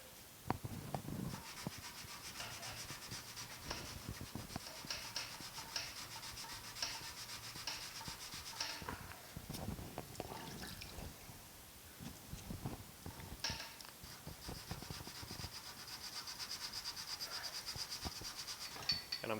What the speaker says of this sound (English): start by sanding the glazing down a little bit.